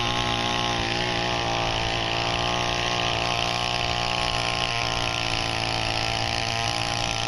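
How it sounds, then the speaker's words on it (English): Small tiller engine running hard and steady in very hard soil, a loud continuous buzzing drone with slight wavers in load and no talking. "We got the littlest tiller of all time, working on the hardest soil of all time."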